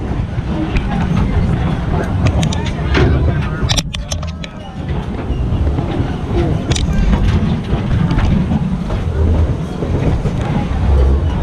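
The Dollywood Express, a theme-park passenger train, rumbles loudly and continuously with rattling wagons and track clatter, a near, dense running noise without any clear talking over it.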